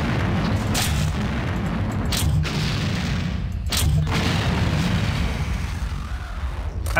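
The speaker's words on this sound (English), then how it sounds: "prox grenades still work all right" Proximity grenades go off in System Shock 2, several deep booming blasts spaced a second or more apart over a dense, rumbling game soundscape.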